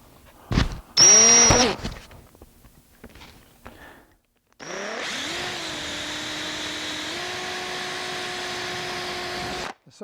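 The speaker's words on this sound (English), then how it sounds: "And I'm just drilling a little bit on either side of the hole." A brief drill burst, then a steady electric drill whine with a brad point bit, drilling into wood, runs for several seconds, close and fairly loud, with a shift in pitch partway.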